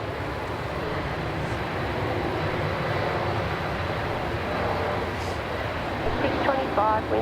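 Loud, sustained jet roar from a Qantas Airbus A330-200 taking off at Melbourne Airport, a dense continuous rumble that keeps its level throughout, with faint voices briefly underneath toward the end.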